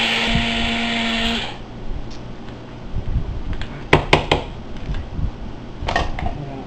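An electric spice grinder whirs briefly and loudly as it grinds cumin and cayenne, cutting off after about a second and a half, followed by light clattering and knocks of handling.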